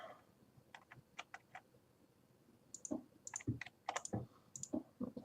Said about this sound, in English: my shift key on my keyboard is remarkably temperamental